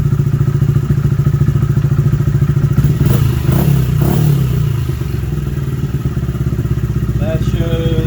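A Honda Grom 125 motorcycle engine idles loud and close with a steady low pulsing thump, joined by a brief clatter and scrape partway through before settling back to an even idle.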